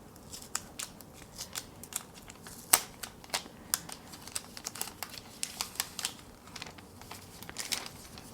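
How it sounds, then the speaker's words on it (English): Paper covering is peeled and pulled off a Google Pixel 9 smartphone in a string of sharp, crisp crinkles and tearing snaps, close and fairly quiet, with no voices. "Let me quickly go ahead and remove the paper covering."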